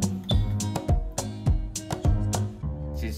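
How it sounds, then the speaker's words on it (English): A Pertronics F220 main fire panel alarm sounds during a test, giving a rapid series of loud, ringing, harmonic pulses at a fast, fairly even rhythm. "Okay, now we're going to set the alarm off."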